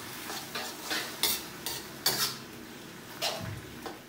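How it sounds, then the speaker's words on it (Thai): Vegetarian noodles being stir-fried in a pan, with a utensil scraping and clinking against the metal in a rough repeated rhythm over a soft sizzle, close and clear with no speech. "ผัดให้น้ำงวดลงเลยนะครับ"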